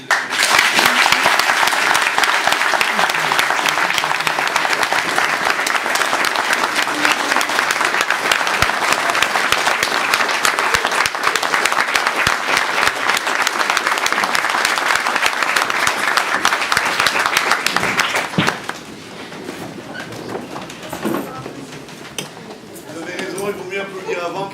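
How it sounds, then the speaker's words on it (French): Sustained, loud applause from an audience at a Torah scroll inauguration ceremony, honoring the grand rabbi, lasting about eighteen seconds before dropping abruptly to a quieter room with scattered voices. "je voudrais que vous l'applaudissiez comme il l'a."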